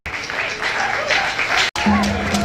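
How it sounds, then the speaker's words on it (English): Audience at a 2014 show closing ceremony gives a short burst of applause, dense clapping that cuts off briefly and resumes, with a voice over it. "Let's give her a hand of applause."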